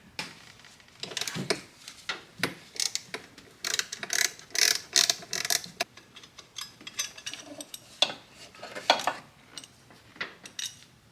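Ratchet working a 12mm bolt loose on a 2007 Toyota Highlander Hybrid during a timing belt job, rapid clicking pawl bursts and metallic clatter in irregular spurts, close up.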